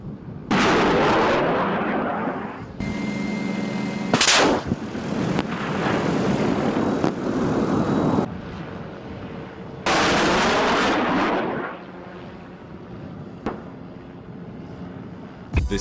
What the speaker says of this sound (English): This is how firing rockets from a helicopter looks.